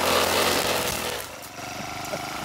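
A gas-powered grass cutter runs close by while clearing the edge of an overgrown plot. Its engine gives a loud, steady whining drone that eases slightly partway through, with no talking.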